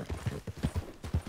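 Quick, evenly spaced hoofbeats of a galloping horse in Red Dead Redemption 2, close and clear, with no voices over them.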